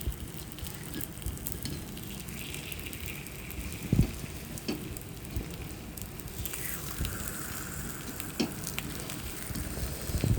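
Sweet paniyaram frying in a pan gives a steady crackling sizzle with scattered pops and a few louder clicks, close and continuous, with no speech.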